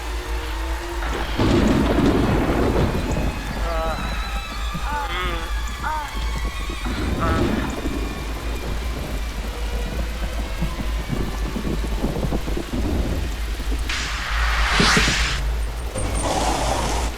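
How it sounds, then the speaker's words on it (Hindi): Heavy rain pours steadily at night while deep thunder rumbles and rolls, with a sharper, louder crack of thunder near the end, all loud and enveloping. "ऐसी ही बारिश उस रात भी थी।"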